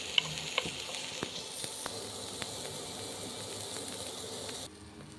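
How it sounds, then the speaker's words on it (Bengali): Garlic frying in butter in a pan, a steady close sizzle with a few light clicks of stirring, easing off in the last half second. "রসুনগুলো দিচ্ছি, বাটার দিয়ে ভেজেছি।"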